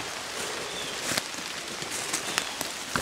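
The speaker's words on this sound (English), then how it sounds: "Please let it stop raining." Steady rain patters softly outdoors in a morning bear hunting camp, a faint continuous hiss with scattered individual drops ticking close by.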